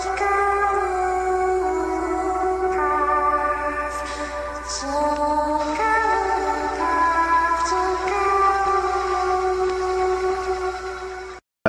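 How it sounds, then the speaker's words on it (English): Jigglypuff, the Pokémon, sings in a high, warbling cartoonish voice, continuously in a wavering, howl-like melody with no talking. "Hello guys, this is the sound of jigglypuff"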